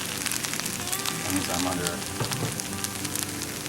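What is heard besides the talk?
fried rice sizzling in a pan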